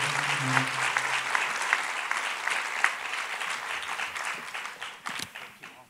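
Audience applause for a panel at a leadership forum, steady broadband clapping from a crowd throughout, with a brief voice at the start before tapering slightly toward the end.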